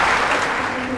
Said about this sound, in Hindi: मुझे लगता है इनके लिए थोड़ी जोरदार तालियां होनी चाहिए।